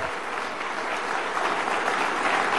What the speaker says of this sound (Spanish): darle un fuerte aplauso y reconocimiento